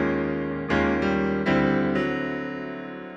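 Blues piano chord progression using sus chords and tritone substitution, moving toward a minor two chord: four sustained chords struck roughly every half second to second, each ringing and decaying, played alone with no talking.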